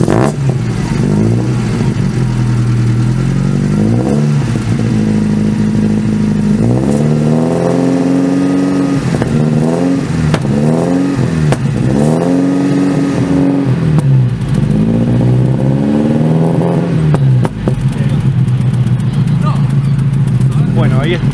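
An Alfa Romeo Spider 2000 on a club drive revs again and again, its engine rising and falling in loud, close, swooping bursts through gear changes, with a voice talking in the car at times.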